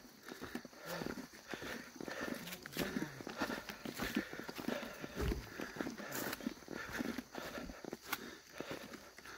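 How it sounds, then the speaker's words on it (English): Soft hoof steps of a cow plod along a hiking trail at an unhurried pace, close by, with faint outdoor ambience and occasional rustling. "Here's a cow right on the trail."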